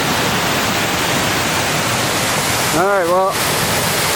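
A mountain stream in the White Mountains wilderness rushes steadily and loudly, its broad hiss of flowing water filling the scene while someone speaks briefly over it near the end.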